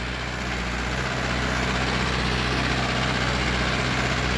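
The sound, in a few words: Mahindra or John Deere tractor engine running in field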